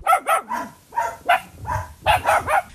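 A dog barks repeatedly in quick, uneven bursts in a village yard, loud and close, with a few yips mixed in between the barks.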